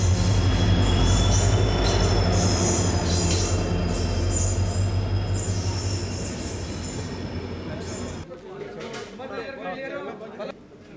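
Karwar train arriving at a railway station: a loud, steady rumble of rolling wheels with high squeals that eases off after about eight seconds, with voices in the background.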